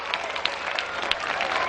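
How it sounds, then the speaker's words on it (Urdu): Loud, dense applause from an audience at an award ceremony honouring chartered accountants, steady clapping with a few sharper claps standing out. "یہ زوردار تالیاں ان چارٹرڈ اکاؤنٹنٹ حضرات کے لیے"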